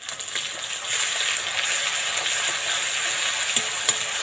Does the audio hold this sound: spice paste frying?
yes